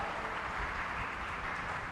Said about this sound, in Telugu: గట్టిగా చప్పట్లు కొట్టి గట్టిగా దేవుని మహిమ గట్టి కొట్టాల.